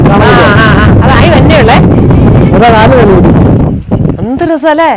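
Loud wind buffets the microphone in a constant roar during rain while people talk over it throughout.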